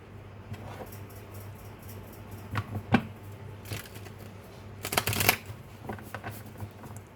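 Tarot cards shuffled by hand during a pick-a-card reading, a run of soft riffling bursts with two louder flurries near the middle and end, heard alone with no talking.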